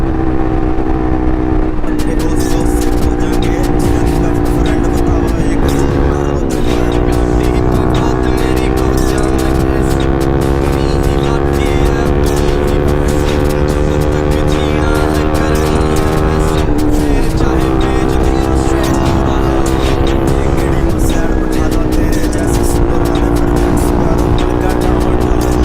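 Two motorcycles racing each other on a road ride, their engines droning loud and constant with rising and falling revs, heard from on board with strong wind rush.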